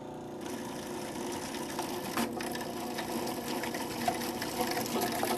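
A Cuisinart FP-14DC Elite Collection food processor whirs in a steady, even motor drone while olive oil goes in through the small feed tube, with no one talking over it.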